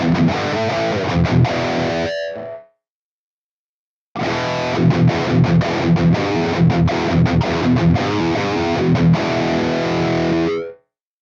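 A heavily overdriven electric guitar through a Tube Screamer distortion pedal plays loud chugging riffs, stops abruptly for about a second and a half, then resumes with dense distorted chords.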